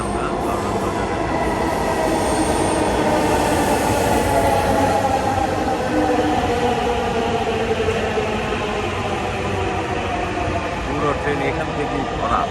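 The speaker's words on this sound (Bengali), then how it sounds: "ট্রেন চলে এসেছে" A metro train pulls into a station on the Uttara–Karwan Bazar line, with a loud, continuous rumble and high wheel squeal lasting throughout.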